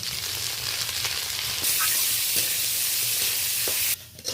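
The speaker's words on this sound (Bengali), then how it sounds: "মসুরের ডালটা হালকা করে একটু ভেজে নেব" Red lentils fry in hot oil in a wok, giving a steady, close sizzling hiss with faint stirring scrapes. The sizzle grows louder partway through, then briefly drops away near the end.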